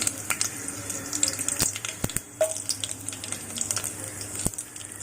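Mustard seeds, fenugreek and dried red chillies crackle and sputter in hot oil for a traditional coriander tomato rasam, sharp pops scattered over a steady close sizzle, with no voices.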